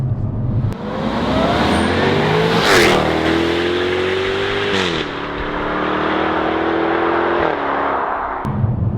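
A Jaguar F-Type P450 V8 revs hard and close: the engine note climbs, dips and surges again in a few blips before settling, with a crackle near the end and no talking.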